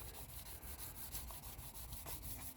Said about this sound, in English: I have a piece of 1500 grit sandpaper. And I just want to try to smooth some of that roughness off of there.